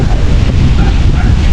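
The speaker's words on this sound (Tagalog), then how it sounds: "napakalakas naman ng hangin sa area na to kasi lawad yan eh" Strong wind blows across an open outdoor area in the Philippines. It buffets the microphone as a loud, continuous roar with a deep rumble for the whole moment, and no words are heard.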